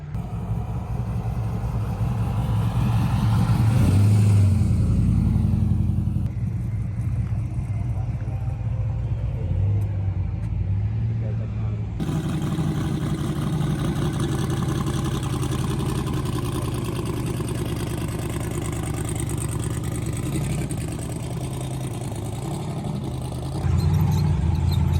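A turbocharged Honda K-series race car engine at a drag strip test and tune, a steady loud low rumble with a swell of revving early on, then settling into a rough, continuous idle throughout.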